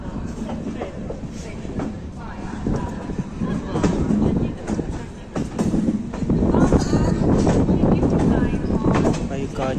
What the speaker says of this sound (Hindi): सामने आप जो ट्रेन देख रहे हैं ना वो है अंबाला कालका पैसेंजर